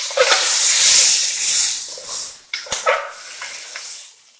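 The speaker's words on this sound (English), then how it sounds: "So our onions have been sauteing for about 5 minutes." Onions sautéing in a pot for a red wine pot roast give a steady broadband sizzling hiss, loudest in the first two seconds and then easing, with a few clinks of a utensil stirring near the end.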